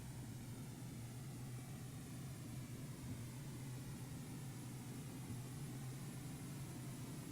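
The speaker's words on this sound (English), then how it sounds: "This is how I like to take off, though." A Boeing 747 in Microsoft Flight Simulator X drones steadily with engine noise during a takeoff run, a faint, continuous low hum and rush with no talking.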